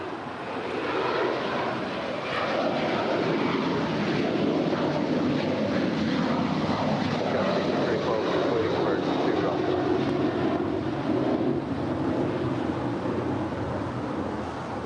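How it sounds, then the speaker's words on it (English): An Alaska Airlines Boeing 737-900ER departs LAX for Newark, its jet engines giving a sustained, moderately loud roar that swells and stays broad and even for the whole stretch, with faint talk in the background. "Next departure, Alaska Airlines Flight 49 heading to Newark"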